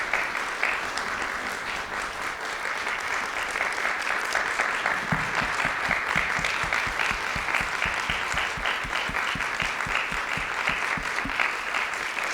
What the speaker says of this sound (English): can we please give some applause and love to Daixuan Ai and the musicians for that